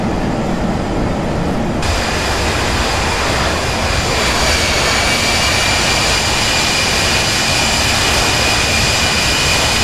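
Jet engines of an Embraer ERJ145 at takeoff in the P3D flight simulator, a loud, steady roar with a rising whine layered on top, continuous throughout.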